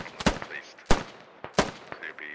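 Gunfire in the video game Squad: several sharp, loud shots in irregular succession, some in quick pairs, with faint in-game radio chatter and beeps between them.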